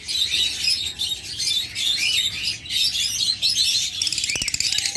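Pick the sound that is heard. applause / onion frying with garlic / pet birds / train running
pet birds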